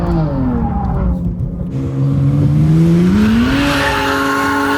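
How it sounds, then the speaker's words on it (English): A car drifting around a corner at a drift training session, the engine revving in rising and falling whines while tires squeal loudly and steadily close by, with a brief spoken word from a person. "Congratulations, that was your first proper nice drift."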